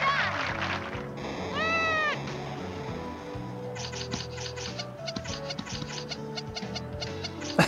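A cat meows loudly in a long, rising and falling wail in the video game Hot Shots Golf: World Invitational, followed by busy background noise and clatter with no talking.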